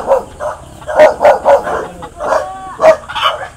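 A dog at a rural home in the forest barks and yips in a quick, irregular series of close, loud bursts with a brief whine between them.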